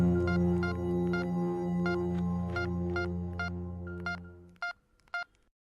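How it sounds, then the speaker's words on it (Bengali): Touch-tone telephone keypad beeps as a number is dialed, a steady run of about eight evenly spaced dual-tone presses over a continuous low hum, then two final isolated beeps in near silence. "এই কথা মাথায় আসতেই আমি অবনীবাবুকে ফোন করি"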